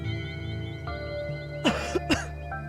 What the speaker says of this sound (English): Sorry if you guys heard me cough.